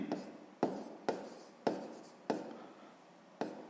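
A pen writes on paper in six short, distinct scratching strokes, quiet and close, with brief pauses between them.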